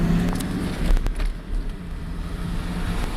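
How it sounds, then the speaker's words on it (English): A 2001 Ford Mustang with a 3.8 engine misfiring, heard from inside the car as a steady, loud, rough low rumble with uneven pulses, mixed with road and wind noise. "Wow, misfires even when I start the car."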